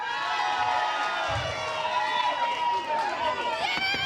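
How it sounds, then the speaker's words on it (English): A dense crowd at a Northern Soul dance event shouts and cheers loudly and continuously for a contestant, voices blending into a sustained roar with whoops rising over the top. "Shout and cheer when I put the cup over their head."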